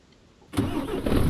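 A truck engine in Euro Truck Simulator 2 turns over after a quiet moment and settles into a loud, steady idle rumble, heard alone.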